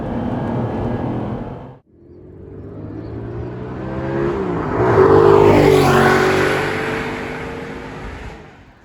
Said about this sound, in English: Today we are looking at this beauty, Gen 1 Audi R8. What a motor.